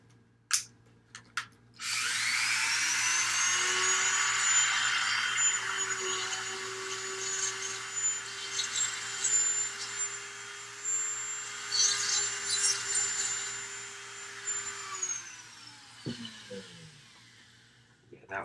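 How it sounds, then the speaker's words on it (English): A power drill bores into a hollow miniature model, a steady high-pitched whine held for about thirteen seconds before winding down, preceded by a few sharp clicks and handling knocks. "I'm going to be drilling."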